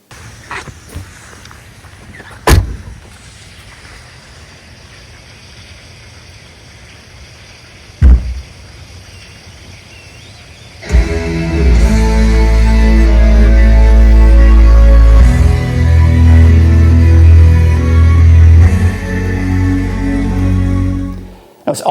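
A 2022 Tesla plays its holiday light show through its exterior speakers outdoors, with loud music starting after a quiet stretch broken by a few sharp thumps.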